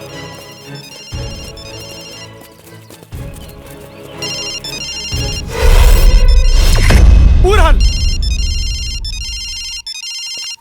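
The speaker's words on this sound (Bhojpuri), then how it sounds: "यहाँ से घंटी का आवाज आवता" A mobile phone rings with a repeating electronic melody, while loud thumps and music-like sounds break in midway. A voice speaks briefly.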